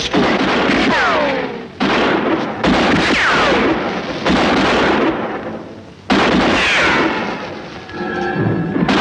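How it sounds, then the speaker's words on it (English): Repeated gunfire from a 1958 film scene, loud bursts of shots and ricochet-like whines in close succession across the whole stretch, with booming thuds between them. "What are they shooting at us for?"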